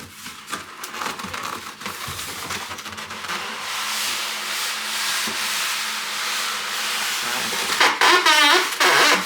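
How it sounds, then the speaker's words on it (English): A cardboard box holding a mixer is turned over and unpacked. Continuous close scraping, rubbing and crinkling of cardboard, growing louder with busier rustling toward the end. "I've turned the box over, but George is going to help get it out of the box"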